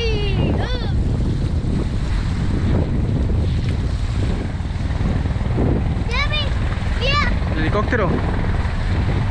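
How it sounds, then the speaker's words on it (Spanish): Continuous loud whirring of a helicopter flying overhead blends with wind buffeting the microphone during cast-net fishing, while excited voices call out briefly over it. "Helicóptero."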